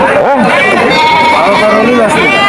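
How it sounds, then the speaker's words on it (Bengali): Sheep bleat at a livestock market, a loud wavering cry rising and falling in the first half over a constant crowd hubbub, with people talking close by throughout. "এই যে বড় একটা বেড়া"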